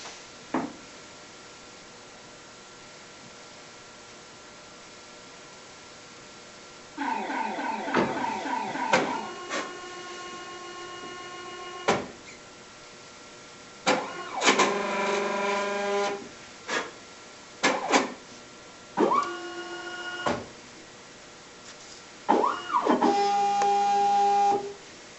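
A ShopBot CNC router homes its X and Y axes against proximity switches, giving bursts of whining stepper-motor tones that rise and change pitch, separated by pauses and sharp clicks, moderately loud over a low background hum.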